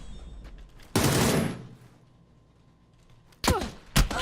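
Beryl M762 assault rifle gunfire in the video game PUBG: a loud broadband burst of shots near the one-second mark, then two more sharp close bursts toward the end, with quieter game ambience between.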